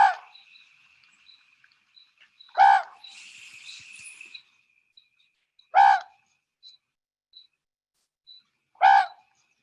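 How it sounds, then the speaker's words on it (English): Recorded owl call from Vermont: four loud, evenly spaced hooting calls about three seconds apart, each rich and clear, with near silence between them. "I'm going to play you, this is a recording of the sound of this owl,"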